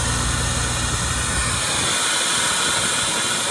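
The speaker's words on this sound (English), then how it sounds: "Nice quick cold start video of the 96 Mazda Efini RX7 Type RS." A 1996 Mazda Efini RX7 Type RS rotary engine idles after a cold start, giving a steady, loud, broadband roar with a constant hissing wash from start to finish and no voices.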